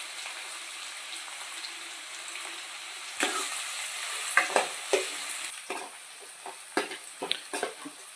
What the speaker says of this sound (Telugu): ఇప్పుడు ఆనియన్స్ వేగేయండి